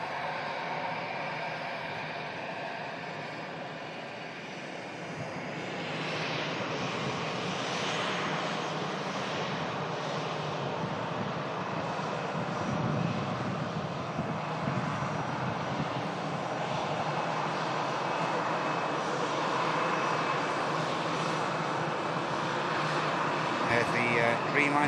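A Boeing 787 Dreamliner airliner bound for Cancun rumbles past during plane spotting, its engines a broad, steady roar that builds and holds throughout, with people talking over it.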